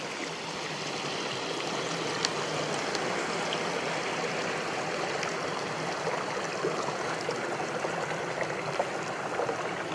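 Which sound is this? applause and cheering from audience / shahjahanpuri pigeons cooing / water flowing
water flowing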